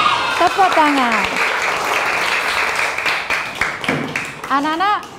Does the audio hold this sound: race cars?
no